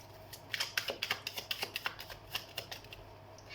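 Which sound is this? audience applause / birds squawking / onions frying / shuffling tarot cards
shuffling tarot cards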